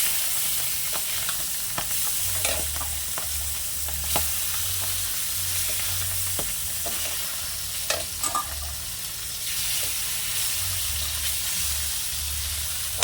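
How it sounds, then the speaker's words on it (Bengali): Small pabda fish fry in a pan with a continuous close sizzle, punctuated by clicks and scrapes of a spatula turning them, over a low background hum. "শুধু এপিট এপিট করে ভেজে নেবো"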